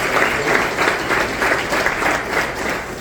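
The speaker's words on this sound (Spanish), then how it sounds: "Un aplauso para Jonathan." A church congregation claps for Jonathan during a Spanish-language sermon, a steady, dense patter of many hands that holds evenly for about three seconds at moderate loudness with no voices over it.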